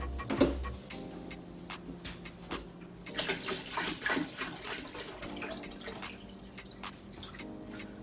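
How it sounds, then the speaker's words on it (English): Water trickles and drips into a container, a light steady pour with scattered splashes, close by and fairly quiet, added to honey for mead. "Now we'll add the rest of our water."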